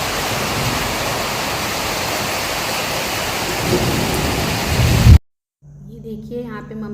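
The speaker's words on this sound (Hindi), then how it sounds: "बहुत तेज वाली बारिश हो रही, एक का एक मौसम बना और भयंकर वाली बारिश होने लगी।" Heavy monsoon-style downpour with thunder: a loud, steady roar of rain with a deeper rumble swelling near the end, then cut off abruptly, followed by a quiet stretch with a faint voice.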